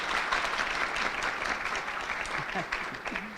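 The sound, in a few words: audience applause for lunch staff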